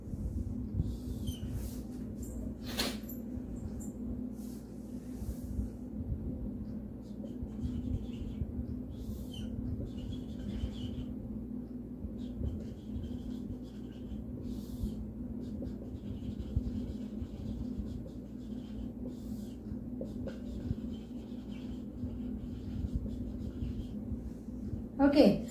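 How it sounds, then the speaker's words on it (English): Faint scratching strokes of a pen or marker drawing a place value grid by hand during a maths lesson, soft and intermittent beneath a steady low hum, while a voice explains. "now I'm going to draw the place value grid"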